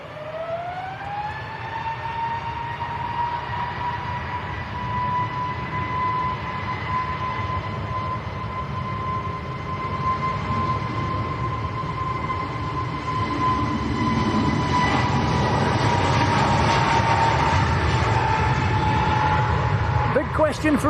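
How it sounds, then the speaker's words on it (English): An EasyJet airliner lined up full length on runway 23 left at Manchester, bound for Sharm el Sheikh, holding a steady high engine whine that builds into a louder roar as it rolls. People speak quietly over it. "first departure off 23 left is going to be the EasyJet, lined up full length"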